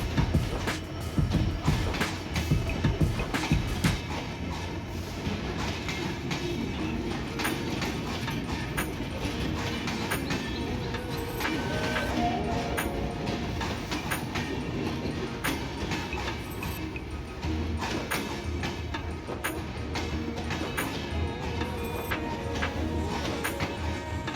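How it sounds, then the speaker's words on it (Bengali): Panchagarh Express rolling into Panchbibi railway station on line one, a continuous loud rumble of wheels and carriages with rhythmic clatter over rail joints and occasional squeals, steady and close throughout. "পঞ্চগড় এক্সপ্রেস এই মুহূর্তে পাঁচবিবি রেল স্টেশনের এক নম্বর লাইন দিয়ে প্রবেশ করছে"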